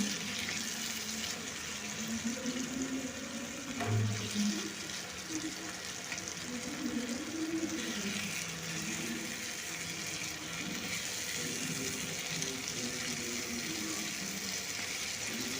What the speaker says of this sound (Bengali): এবার এটাকে নেড়ে নেড়ে আমি ভেজে নেবো